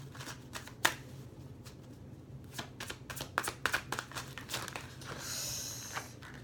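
Oracle cards being shuffled by hand in a series of crisp riffles and soft slaps, close and fairly quiet over a low steady hum, with no talking.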